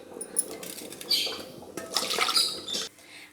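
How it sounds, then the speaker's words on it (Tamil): Flour being stirred and dissolved in water in a kitchen bowl, with sloshing and splashing in uneven bursts, close and moderately loud, no talk. "அதில் கொஞ்சம் தண்ணி ஊற்றி நல்லா கரைச்சிக்கலாம்."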